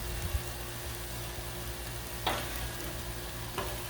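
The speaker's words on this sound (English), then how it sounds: "Sausage and pepper and onion on the griddle." Sausage, peppers and onions fry on a Blackstone griddle with a faint, steady sizzle, broken by a couple of brief scraping clicks, with no voices.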